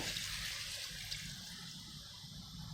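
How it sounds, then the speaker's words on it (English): Water is poured into a pot of simmering chicken curry, giving a steady, continuous splashing hiss that stays fairly even and close throughout, with no voices. "Put in some water"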